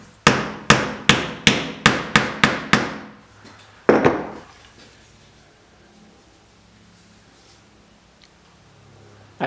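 Hammer blows driving nails back into their original holes on a wooden PT11 boat build: a quick run of about nine sharp, evenly spaced strikes, then a pause and one more blow, loud and close, followed by quiet room tone.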